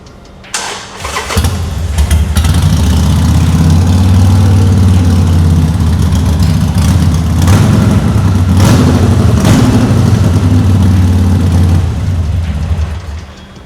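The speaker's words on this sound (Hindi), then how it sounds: "तो ये है हार्ले डेविडसन का थंब" A Harley-Davidson Iron 883 motorcycle cranks and fires up, its loud, deep V-twin engine loping and revving with uneven throttle blips before settling and fading near the end.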